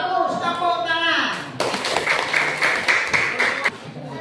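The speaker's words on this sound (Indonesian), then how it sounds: "Masih tepuk tangan." Students in a classroom geometry lesson clap their hands together after the teacher speaks, a busy burst of clapping that starts partway through and carries on under chattering voices.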